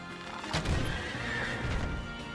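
A horse in the video game Child of Light whinnies loudly and close, a drawn-out neigh over a steady background, with a hint of hooves clopping beneath.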